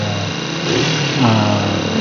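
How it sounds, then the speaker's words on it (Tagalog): A carburetor-fed engine idles very low after its idle screw is turned down, running rough and faint under a continuous mid hum with slight unevenness, as if close to stalling. "sobrang naman po baba at namamatay na po ang makina sa sobrang baba po ng kanyang minor"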